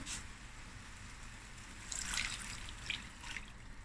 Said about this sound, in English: now I'm going to add two cups of warm to hot water